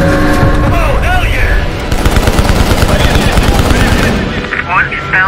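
Rapid automatic gunfire fills a firefight in Call of Duty: Black Ops Cold War, loud and close and nearly continuous, with swooping game effects and a brief voice over the shooting.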